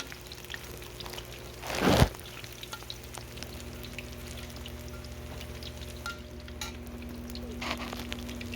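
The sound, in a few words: frying peyek in a pan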